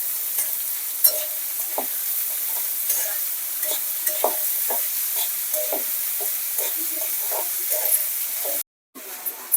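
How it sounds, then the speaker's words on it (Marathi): Onion sautéing in a pan for a wild-vegetable dish of bendri flowers, a steady soft sizzle with repeated scraping stir strokes throughout, briefly cutting out near the end. "कांदा पण आता व्यवस्थित परतून घेऊ आपण लाल होईपर्यंत"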